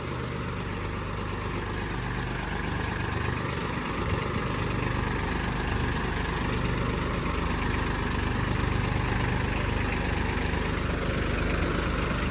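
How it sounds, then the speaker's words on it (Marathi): Mahindra Oja and Kubota 2420 tractors running steadily at 1000 RPM during farm gear testing, a continuous loud engine drone with a low rumble and no break across the whole stretch. "आणि दोन्ही पण ट्रॅक्टर 1000 RPM ला."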